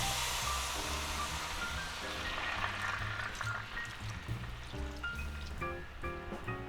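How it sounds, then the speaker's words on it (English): Beef broth pours steadily into a pot for a stir-fry with ramen noodles, making a continuous close liquid rush that runs several seconds without speech. "Now we gotta add about 2 cups of beef broth"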